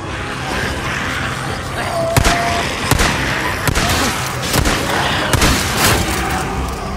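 Gunfire in the video game Days Gone, set inside a mine: a string of sharp, separate shots spaced a second or so apart over a steady rumbling backdrop, fairly loud and close.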